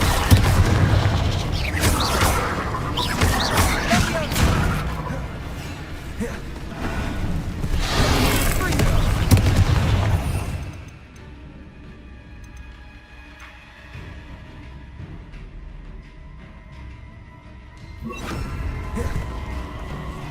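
Incendio, Descendo and Confringo spells blasting in Hogwarts Legacy, a run of heavy booming bursts and crackling impacts for about ten seconds, then a quieter stretch of faint mechanical clicks before another burst near the end.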